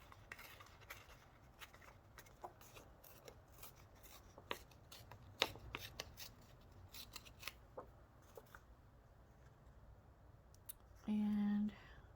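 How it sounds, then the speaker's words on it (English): A strip of paper torn by hand for a Thanksgiving goody bag craft gives close, crackly rustles and small ripping bursts. It ends with a brief steady electronic tone. "I want it to be torn, so I'm just going to rip this"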